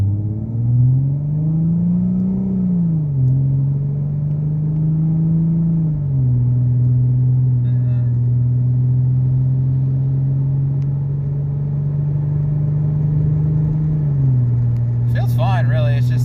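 A 2014 Ford Mustang with the 3.7 V6 and modified shift settings pulls steadily from inside the cabin, its engine drone rising and then dropping at each gear change, with a brief click near the end.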